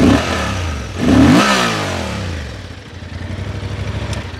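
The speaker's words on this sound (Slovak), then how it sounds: "aj Transalpa najnovšieho si musíme naštartovať" A newest-generation Honda Transalp motorcycle with a 750 cc engine cranks over and fires up nearby, briefly revving before settling into a steady, throbbing idle.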